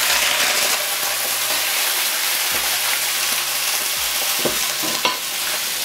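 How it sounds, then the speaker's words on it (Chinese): Raw chicken pieces, not blanched, dropped straight into hot oil in a wok and stir-fried: a steady sizzle broken by repeated scraping stir strokes and a few clatters, with no talking. "锅烧热后加油，鸡块不用焯水，直接生炒下锅。"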